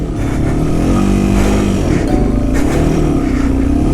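A Yamaha TW200 motorcycle labours through about a foot of deep snow after a big storm, climbing slowly in first gear; the engine drones loud, close and steady throughout.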